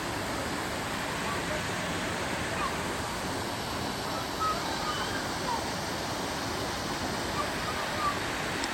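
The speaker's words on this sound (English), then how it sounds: "So this waterfall is right in the middle of downtown" A downtown waterfall gives off a steady, broadband rushing roar of falling water, constant and enveloping with no distinct breaks, heard without any talking over it.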